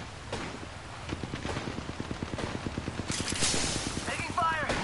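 Rapid automatic gunfire in Apex Legends rattles off in a fast, even burst lasting several seconds, loud and close, with other game sounds mixed in near the end.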